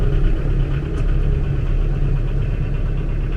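A Kioti tractor diesel engine idles steadily and close by, a continuous low rumble with a slight rhythmic knock and vibration, no voices over it.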